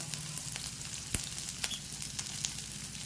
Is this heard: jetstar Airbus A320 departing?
no